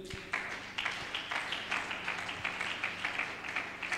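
Church congregation applauding God during a French-language Christian service, a steady wash of many hands clapping at moderate distance that keeps going throughout without pause.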